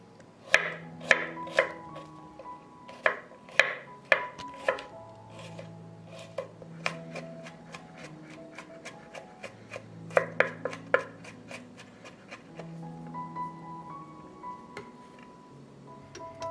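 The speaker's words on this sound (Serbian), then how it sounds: "zatim ću iseckati 4 češnja belog luka" Garlic cloves chopped with a knife on a board, crisp clustered taps in irregular bursts, close, over faint background music.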